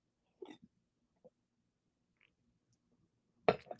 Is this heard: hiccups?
yes